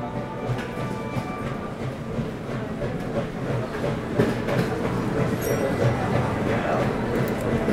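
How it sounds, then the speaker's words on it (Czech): A train rolling through open countryside in the video game Last Train Home, a steady loud rumble of wheels and carriages with faint rhythmic clatter, continuous throughout with no pauses. "Sledovat, jak vlak si tady uhání krajinou"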